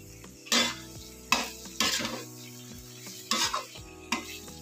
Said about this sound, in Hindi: तीस सेकेंड के लिए मसाले में पनीर को भी हल्का सा चला लेंगे